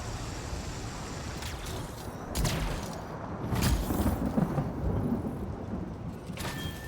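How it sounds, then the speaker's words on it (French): Thunderstorm in the video game Anthem, a continuous roar of rain and rumbling thunder with a couple of sharper crackling cracks midway, steady and fairly loud throughout with no voices. "Petit bruit d'orage."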